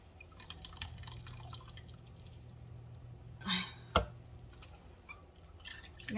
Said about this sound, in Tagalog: Pigaan mo na lang mabuti para tanggal yung tubig.